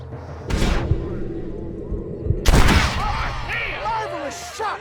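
Gunfire in the Red Dead Redemption video game: two loud, sharp blasts about two seconds apart, each with a short reverberant tail, over a low background hum and faint chirping, with no talk.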